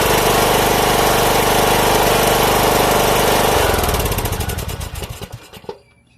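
A small engine that has sat unused for over six months runs at a steady rough idle, loud and close, then sputters and dies away over its last couple of seconds into silence.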